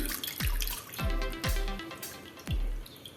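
Water drains out of soaked poha held in a kitchen sieve: a running trickle broken by four or five distinct splashing drips spaced roughly half a second to a second apart, close and clear.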